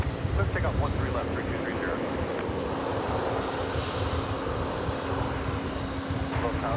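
An aircraft taking off from runway 13 left at Dallas Love Field, a loud continuous engine roar with a steady low hum beneath, heard alongside background chatter.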